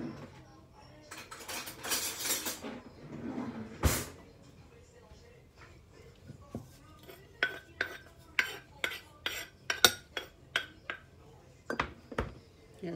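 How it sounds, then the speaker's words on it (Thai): Metal spoons are picked up and handled at a Thai som tam meal in a Swiss home: a quiet stretch with soft shuffling, then a rapid run of bright, close clinks and rattles of cutlery against dishes. "เดี๋ยวหยิบช้อนกันนะคะ"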